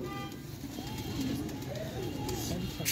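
Teddy pigeons coo in soft, repeated rounded calls at close range, several birds overlapping over a low steady background murmur.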